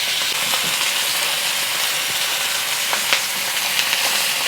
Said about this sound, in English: I'm going to add my pork directly into the wok.